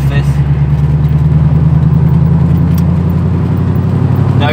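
A Morgan Plus 8 with a cam upgrade and chipped ignition cruises in fifth gear, its engine a steady low drone held at constant revs, loud and close throughout with faint wind noise.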